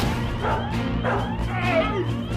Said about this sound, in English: Not dogs! You said there were no dogs!